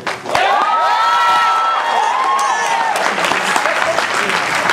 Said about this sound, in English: Do this with a round of applause.